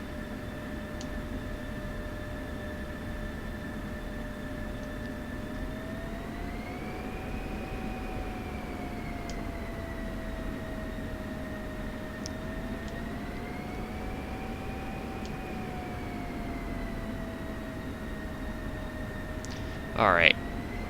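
An F-16I Sufa fighter jet taxis in a combat flight simulator, its steady engine whine holding throughout and rising gently in pitch twice as throttle shifts, with a brief sharp click near the end.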